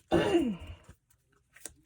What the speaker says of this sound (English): I cough and I have to clear my throat because I have asthma